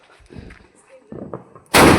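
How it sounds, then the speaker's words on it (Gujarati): A Diwali firecracker bomb set off in a village goes off as one sudden, very loud close blast, after a stretch of quiet talking and rustling. "બોમ્બ ફૂટવાનો છે આપણો"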